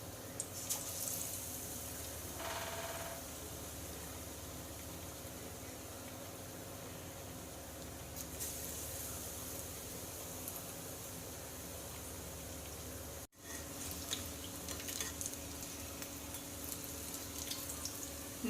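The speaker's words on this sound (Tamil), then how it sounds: "டிப் பண்ணி எண்ணெயில் போட்டு ஃப்ரை பண்ணிக்கலாம்" Bread slices dipped in batter fry in hot oil, a continuous soft hiss of bubbling with occasional crackles and a brief dropout near the end, quiet and close, no talking.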